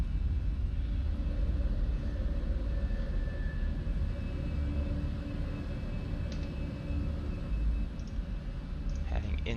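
Fenix A320 airliner climbing away from the runway after takeoff in Microsoft Flight Simulator, a steady loud low engine roar with constant rumble and a few faint clicks, unbroken throughout.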